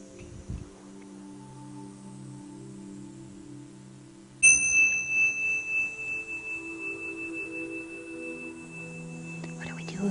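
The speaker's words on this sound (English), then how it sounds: "So we're going to start with our bell sound." A single bell is struck to open a kids yoga class, a clear ringing tone that begins abruptly and then fades slowly with a long, shimmering sustain over a quiet background.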